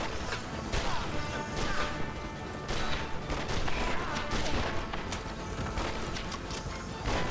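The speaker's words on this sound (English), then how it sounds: "There's fucking cannons." Cannon fire in the Xbox western game Red Dead Revolver, heavy booming blasts and crashes arriving in a rapid irregular barrage among hoofbeats and gunfire, loud and close, with someone talking briefly.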